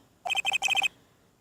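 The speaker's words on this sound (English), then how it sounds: "You pressed redial on that there phone" A telephone rings in the Ace Attorney video game after a redial: three short bursts of bright electronic trills, close and clean, followed by silence.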